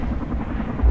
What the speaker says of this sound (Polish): Okej, mamy tutaj kolejny śmigłowiec nasz gotowy.